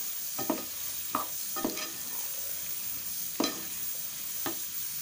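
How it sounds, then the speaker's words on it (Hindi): Cluster beans (gawar phalli) and potatoes frying in a pan, a steady sizzle broken by several sharp scraping strokes of a spoon stirring the vegetables, close up with no talking. "अब हम इसमें डालेंगे फली और आलू"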